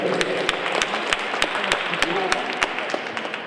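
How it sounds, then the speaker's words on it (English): Students at a school perfect attendance assembly applaud in a steady crowd wash, punctuated by distinct individual claps close by, while voices murmur and a speaker talks through it. "let's give yourselves a round of applause for being here every day, on time, prepared for school"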